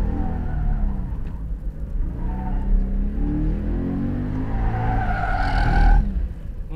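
Toyota 86 set up for dirt-track rallying with studless rear tyres, its engine droning steadily and building as it drives on loose dirt, with a brief tyre-slip scrabble near the end.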